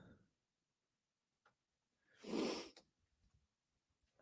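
A single close sneeze bursts out of near silence midway through, a sharp breathy blast, with faint breaths and small clicks around it.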